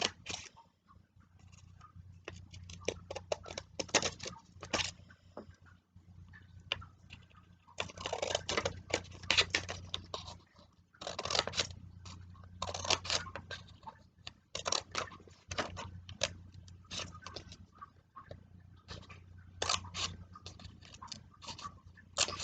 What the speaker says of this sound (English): keep cutting those. Careful with the scissors and just go all the way down to that fold.